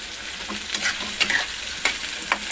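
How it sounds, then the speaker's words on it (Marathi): Garlic and onion with turmeric powder frying in an old aluminium kadhai, a constant close sizzle broken by sharp clinks and scrapes of a stirring spoon. "आपल्याला चांगला लसूण कांदा वगैरे भाजून घ्यायचा आहे बघा हळद पावडर ॲड केली मी"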